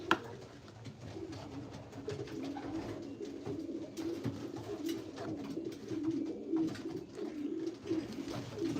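Pigeons in a loft coo softly and repeatedly, their low rolling calls close by over faint rustling, with no one talking.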